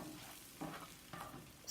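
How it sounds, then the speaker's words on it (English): Eggs scrambled in a hot pan for breakfast quesadillas, with a steady low sizzle under a few louder scraping strokes as a utensil breaks them up, close and fairly quiet. "you just want to make sure that you hurry up and break up the eggs if you want it scrambled"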